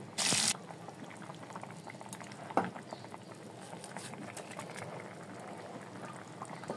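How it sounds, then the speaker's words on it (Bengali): Water poured into a cauliflower and fish curry in a pan: a loud splashing pour at the start, then a soft bubbling simmer with a sharp scrape of stirring midway. "এবার এর মধ্যে দিয়ে দেব জল দিয়ে সব ভালো মতো একসাথে নাড়িয়ে নেব"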